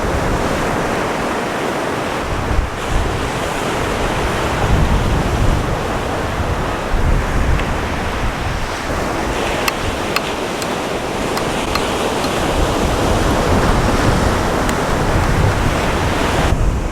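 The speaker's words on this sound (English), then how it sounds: "Oh, getting windy as well." Strong wind gusting by the sea with waves breaking on the shore, a loud, continuous broadband roar with wind buffeting the microphone and no talking.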